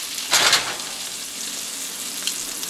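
Floured chicken francese cutlets sizzle and fry in a pan, a steady close hiss with a brief louder crackling burst early on and a smaller flare near the end, no voices.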